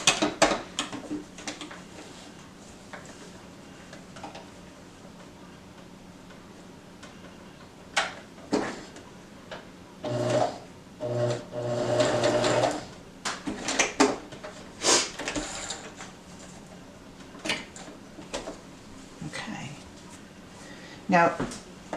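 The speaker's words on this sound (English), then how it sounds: "flip it over and go in the other direction to sew that down" A sewing machine stitches across a fabric face mask in short runs of rapid ticking, broken by pauses and handling clatter, with a voice talking over much of it.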